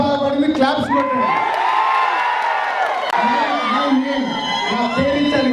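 An audience at a Telugu film platinum disc function cheers and shouts for a singer, a continuous crowd roar with whoops and scattered claps throughout.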